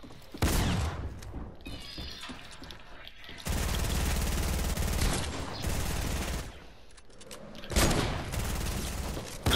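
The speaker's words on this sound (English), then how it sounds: "Look at you spamming that shotgun." Shotgun blasts ring out in the video game Fortnite, heavy repeated booms in quick bursts with sustained loud firefight noise between them, close and dense.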